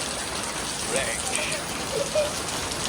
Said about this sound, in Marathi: पाऊस नेहमीसारखा आपल्या वाकड्याला आला आहे